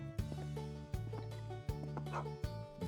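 A dog barking in sharp, repeated bursts with yips and whimpery tones between them, about five barks spread evenly over a few seconds, fairly close and with no talk.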